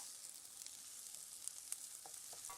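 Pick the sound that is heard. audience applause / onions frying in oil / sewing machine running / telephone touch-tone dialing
onions frying in oil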